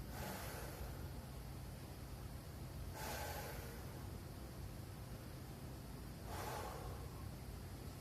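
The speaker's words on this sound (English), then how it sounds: "take a few deep breaths" Slow deep breathing from a person holding a thoracic extension position with elbows locked, two long airy breaths rising around three and six seconds over a steady soft hiss, close and quiet.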